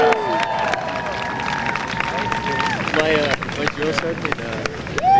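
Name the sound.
crowd applause and cheering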